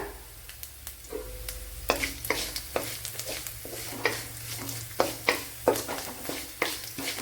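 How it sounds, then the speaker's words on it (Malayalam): Garlic and cumin seeds fry in oil with a steady sizzle, punctuated by regular scraping taps of a spoon stirring in the pan, close and moderately loud, with no voices. "അപ്പോൾ ഇവിടെ വെളുത്തുള്ളിയൊക്കെ മൂത്ത് വന്നിട്ടുണ്ട്"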